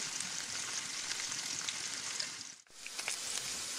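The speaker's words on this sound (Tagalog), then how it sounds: "aking palulutungin ang aking bacon dito sa aking kawali para ito ay gawing chicharon" Bacon fries in a pan to become chicharon, giving a steady, loud, close hiss dotted with tiny crackles. It dips briefly once before continuing, with nobody speaking.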